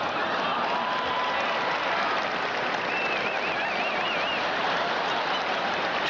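A tennis exhibition crowd at a 1995 showdown with Connors, Evert, McEnroe and Navratilova, roused by McEnroe: a steady, distant wash of cheering and applause that continues unbroken for about six seconds, with faint whistles rising above it.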